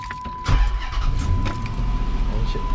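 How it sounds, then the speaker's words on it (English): Idling V8 engine of a Chevy 1500 pickup truck, a steady low rumble heard from close by, with brief voices and rustling from the cab over it. "Sounds really nice, right? It's a big ass motor, right?"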